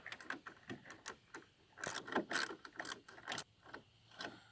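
Socket ratchet with an 8mm socket and extension turning a long ground bolt during a trailer light wiring harness install, a rapid close series of dry clicks in bursts, loud and alone.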